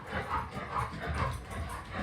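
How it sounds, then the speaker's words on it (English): An excited dog close by gives a run of soft whimpers and short yips in an indoor room, rising and falling in quick repeated bursts. "My dog is very excited about stuff."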